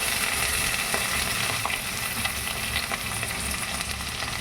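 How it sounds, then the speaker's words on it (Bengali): Onions stir-fried in a pan while making semolina upma, a steady crackling sizzle with a few soft scraping stirs, close and fairly quiet, no voices. "দুটো পেঁয়াজ দিয়ে আমি একটু নাড়িয়ে ভেজে নেব"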